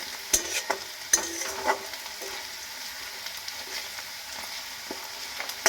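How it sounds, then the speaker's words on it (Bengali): Onions fry in a pan for an egg curry while a spatula stirs them, giving a soft steady sizzle broken by sharp scrapes and taps against the pan. "পেঁয়াজটা ভেজে নিচ্ছি তো পেঁয়াজটা কিন্তু আরেকটু লাল করে ভাজবো"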